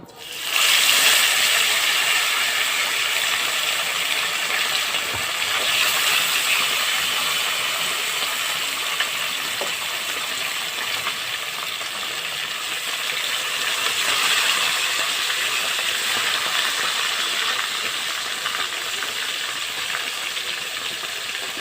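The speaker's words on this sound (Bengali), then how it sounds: "ভোলা মাছটাকে ভেজে নিচ্ছি" Pieces of bhola fish fry in hot oil, destined for a mustard curry. A loud, steady hiss runs unbroken for more than twenty seconds, with no pauses and no talk.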